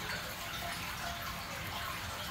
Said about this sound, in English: Maybe that's why that water's making so much noise.